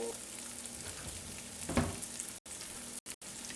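Stir fry sizzles steadily in a hot pan, a dense continuous frying hiss with a brief louder burst midway and a few short breaks, with no voices.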